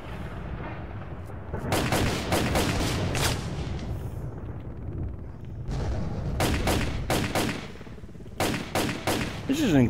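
Gunfire from a very steady rifle in the video game Call of Chernobyl: repeated bursts of sharp shots with booming echoes, some clusters rapid, loud over a continuous ambient rumble.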